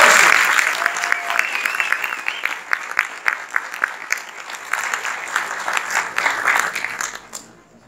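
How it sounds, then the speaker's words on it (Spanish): An audience applauds at a Spanish-language show, the clapping dense and sustained for several seconds before fading out near the end, with a brief voice heard early on. "Démosles un fuerte aplauso."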